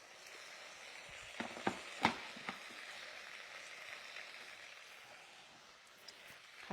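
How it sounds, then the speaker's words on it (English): Linguine with Mediterranean olives sizzles and fries in a hot pan inside a Magimix Cook Expert, a faint steady crackle with a few sharp clicks and pops near the start. "I love the sizzle."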